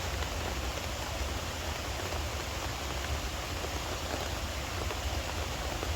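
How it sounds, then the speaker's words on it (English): Steady, dense rain pours down without a break at a wild camp in Scotland, a constant hiss of drops hitting surfaces nearby, with no voices. "the rain, it's just no stopped, it's just constant"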